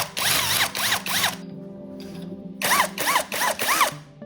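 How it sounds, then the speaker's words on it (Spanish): A power drill with a 1/4 inch bit bores holes in short, loud whirring bursts whose pitch rises and falls, broken by a brief quiet pause before several more close-up bursts. "Y perforamos con una broca de 1/4."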